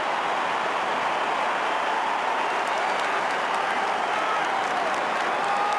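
Australian rules football crowd in a large stadium roaring and applauding after a goal levels the match. The cheering is a dense, sustained wash of noise from the stands, continuous and steady across the whole stretch.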